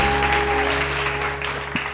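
Applause from a studio audience on a televised morning makeover show, steady dense clapping over a low background hum, filling the brief moment without speech.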